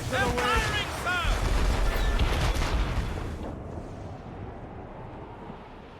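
Ship cannons in the Assassin's Creed Rogue video game fire in a dense, loud volley of booms over the first three seconds, then fade into a low rumble while a voice speaks.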